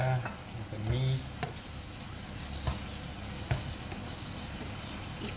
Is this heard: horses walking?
no